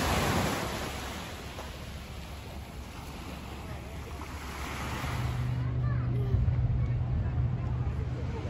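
Sea washes against the cliffs below Sorrento, where bathing platforms are built out like piers, a broad windy surge of surf with gusts buffeting the microphone and a low engine-like hum joining in the last few seconds.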